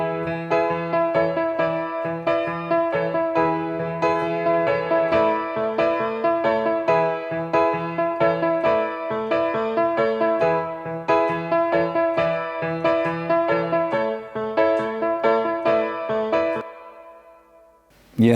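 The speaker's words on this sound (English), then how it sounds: "The piano sounds like this." Piano heavily saturated and driven through a Decapitator plugin on a studio re-recording of a song, playing steady loud chords with a gritty, dense tone for about seventeen seconds before stopping abruptly.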